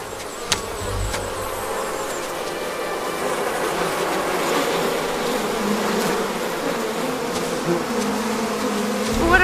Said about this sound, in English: You're foolish to mess with bees.